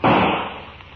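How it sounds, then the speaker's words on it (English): A single loud gunshot sound effect from a radio drama cracks sharply at the start, then decays in a long, noisy rumbling tail. "Well, then, I'm shooting."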